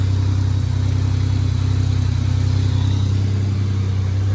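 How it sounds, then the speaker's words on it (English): A Camaro engine idles steadily just after starting, a loud, close, even low rumble that keeps up its continuous drone with no revving and no voices. "I changed the temp sensor and this thing just fired on the first crank, and it sounds smooth."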